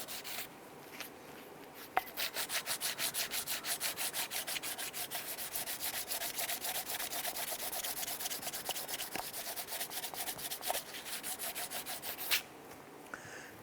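A wooden block scrubs back and forth across a Jeep Grand Cherokee 4.7L V8 exhaust manifold gasket surface in rapid, steady strokes for about ten seconds, close up with a rough rasping texture.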